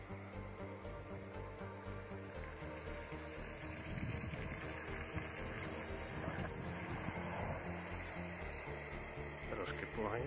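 TAIFUN model boat motor running on water, a steady faint electric whine with choppy splashing and wind noise that grows slightly louder in the second half.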